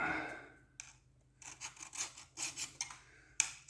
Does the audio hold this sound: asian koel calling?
no